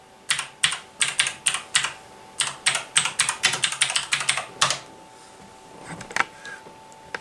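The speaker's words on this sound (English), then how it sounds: "listen to the very carefully of the sound" Rapid, crisp clicks of a Razer BlackWidow V3 mechanical gaming keyboard being typed on, a quick burst of keystrokes close up that trails off into a few scattered taps.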